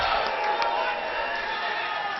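Crowd noise at a Twin Cities championship wrestling match, a steady loud roar of fans cheering for Ricky Love, dense and continuous throughout with a commentator's voice over it.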